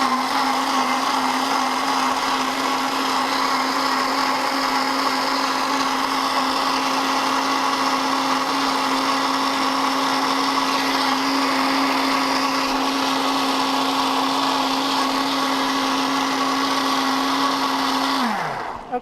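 A blender purées zucchini and green pea soup with dill and black pepper, its motor whirring loud, close and unbroken for the whole stretch before winding down sharply at the end.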